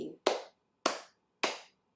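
Three sharp, evenly spaced hand claps ring out loud and close, each with a short decaying tail, leading into a fourth clap cut off at the end.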